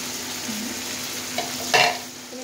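Tomato paste sizzles in hot oil with spices, salt and fried onion for chicken curry: a steady, soft frying hiss with a spoon scraping and clinking against the pan near the end, and no talk.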